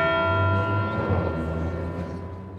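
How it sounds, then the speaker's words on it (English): Bells chime near the Sample Gates during an evening vigil, with a sustained ringing tone resonating clearly for a couple of seconds and slowly fading. "Under the chimes of the bells near sample gates and the fading sunlight"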